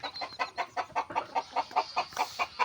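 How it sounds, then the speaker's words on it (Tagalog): Chickens clucking in a steady run of short, regular calls, fairly close, with no talking, on a misty rural morning. "Yan yung mga manok."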